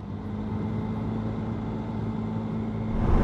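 A motorcycle rides through quiet city streets in Zanjan, Iran, at dawn, its steady low engine hum running close and continuous, swelling slightly louder at the end, with no talk.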